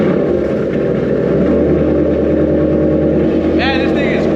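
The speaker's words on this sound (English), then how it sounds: "we're actually gonna go ahead and hear the first cold start with the new exhaust, the Roush ones" A Shelby GT500 with a new Roush exhaust fires up on a cold start, its deep, loud idle rumbling steadily close by with a brief rising whine near the end.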